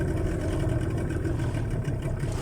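A Yamaha 15 motorcycle engine runs continuously with a steady, rumbling drone close by, no talking over it.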